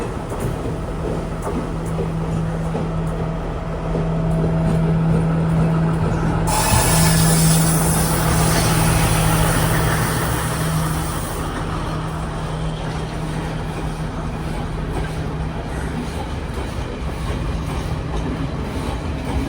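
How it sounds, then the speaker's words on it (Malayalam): A local diesel train rumbles steadily into platform 4 on Sri Lanka's coastal line, a loud, continuous engine drone with a brief surge of rail noise midway, and no voices. "4-ാം നമ്പർ പ്ലാറ്റ്ഫോമിലേക്ക് ഒരു ലോക്കൽ ട്രെയിൻ വരികയാണ്"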